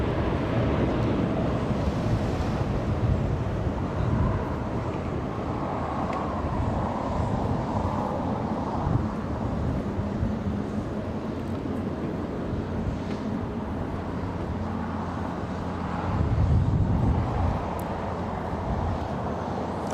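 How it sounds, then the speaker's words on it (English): A Boeing 777 taking off at LAX, a broad, sustained jet roar heard from a distance that holds steady throughout, rising slightly near the end, with some wind buffeting the microphone. "so that is the 777 takeoff"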